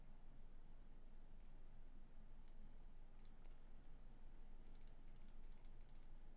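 Faint typing on a computer keyboard during a card-game stream, scattered light clicks that build into quick bursts of keystrokes over a steady low background hum, no talk.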